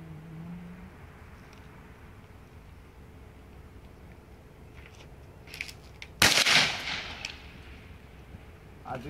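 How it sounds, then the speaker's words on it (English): A single sharp crack from a 17 HMR rifle fired at a 10 gauge shotgun shell 50 yards away rings out outdoors after several quiet seconds, then tails off into a brief echo. "I'm gonna see if you hit a 10 gauge shell, well, round, whatever you wanna call it, see if we can make it go off."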